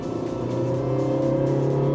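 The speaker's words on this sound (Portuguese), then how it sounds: "O motor vai gritar um pouquinho mais do que o próprio Civic" A Honda City 1.5-litre with a CVT and 125 hp drones loudly and steadily from inside the car, the engine note straining and rising slightly over two seconds.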